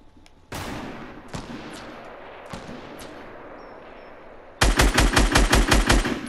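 Gunfire in a video game: a few scattered sharp shots over steady background noise, then a loud, close automatic burst of rapid, evenly spaced rounds.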